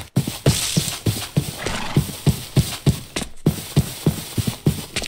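Horses in stables in the Minecraft video game clop along in a steady, evenly spaced hoof rhythm, loud and close, with a brief neigh near the start.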